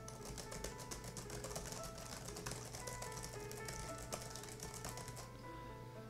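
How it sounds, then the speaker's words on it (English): Someone types on the quiet keyboard of an RCA Viking Pro 10.1-inch 2-in-1 tablet, producing a rapid patter of soft, faint clicks under a steady hiss of background noise. "the keys are very quiet, but they do have a very gentle sound to it."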